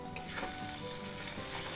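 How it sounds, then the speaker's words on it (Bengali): Mutton frying in a pan with a pinch of turmeric, salt and sugar, a steady close sizzle running evenly throughout with faint stirring scrapes. "ভালোভাবে ভেজে নেব।"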